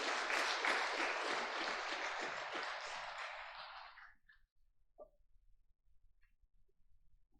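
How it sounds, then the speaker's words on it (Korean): An audience at a Catholic book concert claps warmly to welcome a speaker, a dense round of applause that fades out after about four seconds, leaving a quiet room with a few faint taps. "박재형 프란치스코 선생님 박수로 맞이해 주시기 바랍니다"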